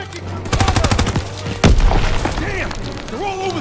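Machine gun fire in a Call of Duty WWII battle by a main staircase: a rapid burst of close shots, then a heavy boom, with voices calling out over the fighting.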